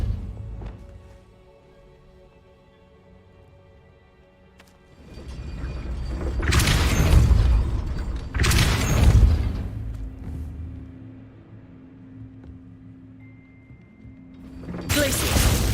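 Depulso force-push spell cast in the Hogwarts Legacy video game, heavy whooshing blasts with booming impacts, three loud bursts spaced a few seconds apart over quieter game ambience and music.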